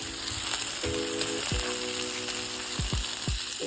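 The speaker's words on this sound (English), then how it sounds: "Remember, you're just searing them, not cooking them all the way through." Pork chops sear in a hot pan, giving a loud, dense sizzle and crackle that runs without a break, with a few metallic scrapes of a utensil and no voices.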